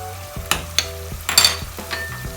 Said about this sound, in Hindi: दही डाल के सारे मसाले डाल के तो भूनते हैं